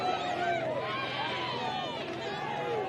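Crowd at a women's rugby final between Ngongotahā and Rangataua, a continuous lively roar and chatter from spectators filling the background while a commentator talks over it.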